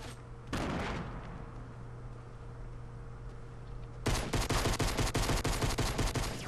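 Gunfire in the video game Fortnite: a single shot, then a pause over a low hum, then a rapid burst of repeated shots in quick succession.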